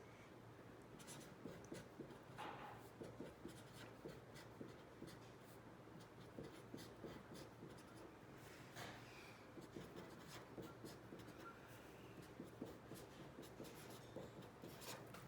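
Pen scratching on paper as a math polynomial is written out by hand, producing soft, continuous short strokes and taps, close and quiet with no talk.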